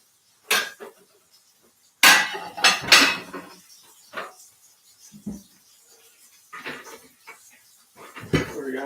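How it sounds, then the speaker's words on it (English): Dishes, pots and lids being put away in a home kitchen, with loud clattering clinks and knocks in uneven bursts, close by, separated by brief pauses. "Put some dishes away so I can get the next set of dishes done."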